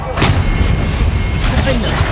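In Hogwarts Legacy, an Expelliarmus spell lands as a heavy, booming blast with a rumbling magical burst, loud and close, alongside a voice casting spells.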